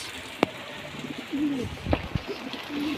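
Breeder pigeons coo softly nearby in a few low, warbling calls, with scattered light clicks and taps in a quiet coop.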